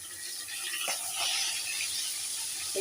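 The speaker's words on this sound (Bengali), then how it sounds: "মাছটা ওই জন্য একেবারে ভেজে নিচ্ছি।" Rui fish fries in a generous amount of oil, giving a steady, close hiss of sizzling with no other sounds.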